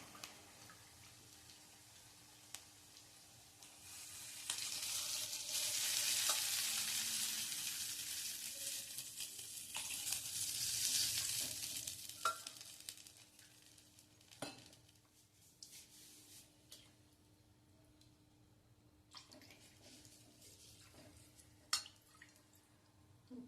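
Water poured into a hot tempering for pithla made with ground dal sizzles loudly in the pan, a broad hiss that swells, fades and swells again before settling into quieter clinks and drips.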